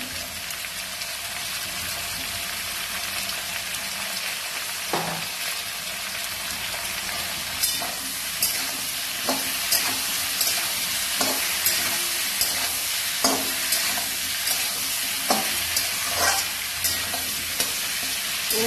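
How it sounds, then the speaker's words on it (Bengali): A hilsa fish head fries in a pan with turmeric and salt, giving a continuous close sizzle like rain on a surface, with repeated soft knocks and scrapes as a spatula stirs it. "হলুদটা দিয়ে ভালো করে একটু কষিয়ে নেবো।"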